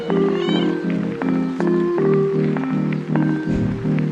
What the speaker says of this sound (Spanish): Qué bonita gatita.